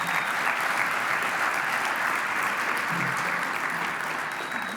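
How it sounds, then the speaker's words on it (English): An audience at a convention hall claps together in sustained, even applause that fills nearly five seconds at a steady level before easing slightly at the end. "Please give yourselves a round of applause for that."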